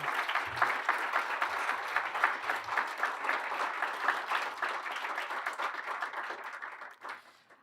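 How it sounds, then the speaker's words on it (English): Sustained applause from an audience at a bipartisan elections summit as senators leave the stage, dense and even for several seconds before thinning and fading out. "let's give them one more round of applause as they leave"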